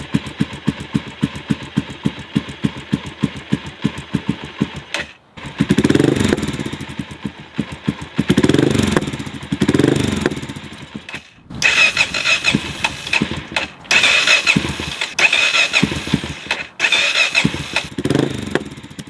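A Honda GB500 motorcycle is cranked repeatedly with a rapid rhythmic starter chug, then the engine catches and revs in uneven bursts, surging and dropping as it fails to settle into a steady idle, loud and close.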